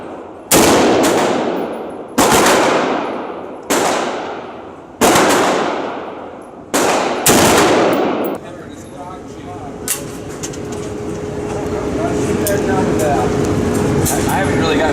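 Rented guns fired at a shooting range: six loud, sharp shots spaced about a second and a half apart, each ringing out briefly, followed by quieter range ambience with faint movement and talk.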